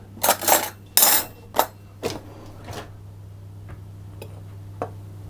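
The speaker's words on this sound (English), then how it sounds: "baking powder and my cocoa powder into my flour. I'm just going to stir those around" A spoon stirs baking powder and cocoa powder into flour in a mixing bowl for a raspberry chocolate sponge. A quick burst of close clinks and scrapes is followed by a few fainter taps, with no talking.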